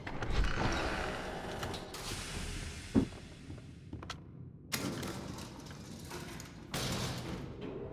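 Doors creak and grind open in the horror game Bendy and the Ink Machine, with mechanical clanks, a few heavy thuds and sliding, rumbling movement across the scene, fairly loud and with no speech.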